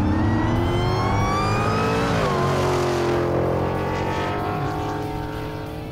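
Italian car with a 3.5-litre, 255-horsepower V8 revving hard, a loud, close, sustained engine note climbing and dipping in pitch, with no talk over it.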